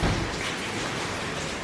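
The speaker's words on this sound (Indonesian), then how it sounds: "Hujan terus tiap hari." Steady rain falls in a dense, even hiss, a soft continuous wash of droplets with no talking.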